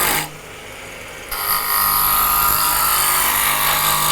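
An American Beauty Robust wood lathe spins up to its top speed, a steady motor whine that jumps louder after a brief quieter stretch and then holds at a constant, close, high-pitched drone.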